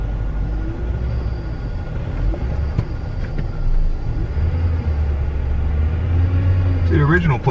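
A limousine's engine rumbles low and steady as it backs onto a levee and turns around, with someone talking over it throughout and a louder low surge partway through.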